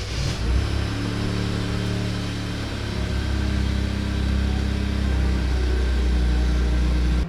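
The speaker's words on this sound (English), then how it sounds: "I plugged it back into my car the moment I got it, did a cold start, and voila!" A Toyota GR Yaris engine starting cold and settling into a steady, loud low rumble, heard close and alone, with slight swells in engine note throughout.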